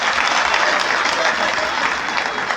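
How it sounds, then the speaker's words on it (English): Dense, steady applause from a school audience at a candidates' dedication ceremony at Kiira College Butiki, many hands clapping close and loud without a break. "let's add them another hand clap."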